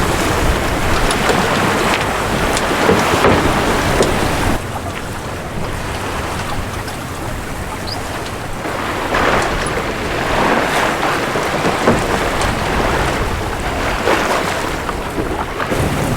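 A sailboat runs downwind through open water, with loud steady wind rush and water wash against the hull filling the whole stretch, surging slightly at moments with no voices.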